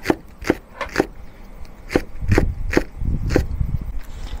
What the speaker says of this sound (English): Cut the white section into small rings for stir frying.